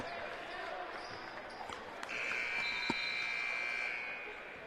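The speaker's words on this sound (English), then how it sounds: "I think a buzzer for subs." A sustained electronic buzzer sounds at a boys' high school basketball game to call a substitution, a steady mid-pitched tone lasting about two seconds amid gym crowd noise, a ball bounce and commentary.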